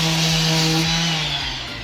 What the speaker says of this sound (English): So now I'm gonna sand them down.